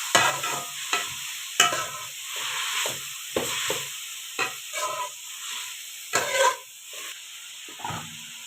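A spoon stirring and mixing ingredients with vinegar in a sizzling pan, irregular scraping and clinking strokes over a steady hiss, close and fairly loud.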